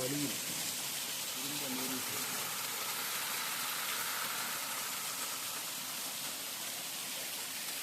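Water rushing and splashing beside a mountain road near Kodaikanal, a steady broadband roar like a small waterfall; a voice speaks briefly near the start.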